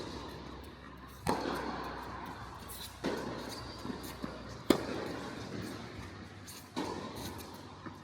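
A tennis ball struck hard on a big serve in an amateur match, a sharp close crack followed by further spaced impacts and thuds of the rally, with room echo behind.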